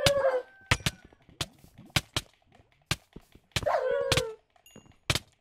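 Minecraft dog whimpering twice in a Skywars game, high whiny cries between sharp clicks and thunks of in-game hits and action, fairly close and moderately loud, with no talking.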